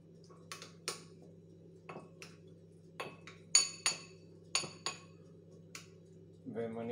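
Potato wedges being mixed with black pepper and spices in a bowl, giving a series of light clinks and scrapes of utensil against the bowl at an irregular rhythm, close by, with a low steady hum underneath.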